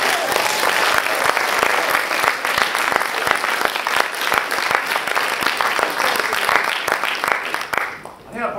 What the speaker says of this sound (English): I'd like you to join me in giving a big cheer or round of applause to everyone.